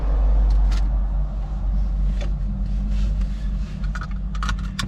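A small car passes a cyclist out on a bike ride, its road noise rising and fading beneath a steady, heavy wind rumble with no talk.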